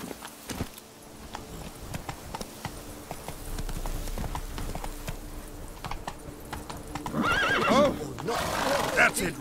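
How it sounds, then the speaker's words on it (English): A horse in The Witcher 3: Blood and Wine whinnies loudly near the end over a steady ambient bed, with faint hoof clops and clicks scattered throughout. "I just wish they made Roach a little more like a Skyrim horse"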